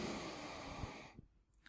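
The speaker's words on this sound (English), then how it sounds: "Take a deep breath in again." A deep breath drawn in and let out during a calm breathing exercise, a steady airy rush lasting about a second before it fades away.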